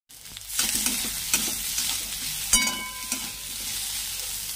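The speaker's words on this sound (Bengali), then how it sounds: "আলুটাকে একটু কষিয়ে নেব।" Potato pieces fry and get stirred with onion and garlic in a pan for stuffed pointed gourd curry, a loud close sizzle broken by several scraping and clanking spatula strokes, one especially sharp.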